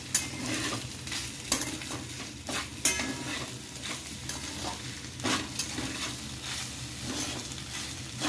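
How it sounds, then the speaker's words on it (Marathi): Veg Schezwan fried rice with chili sauce is stirred in a hot pan, making a constant sizzle with frequent rhythmic scraping and clanking of the spatula against the metal, close-up and without talk. "हा भात व्यवस्थित आता हलवून घेऊया"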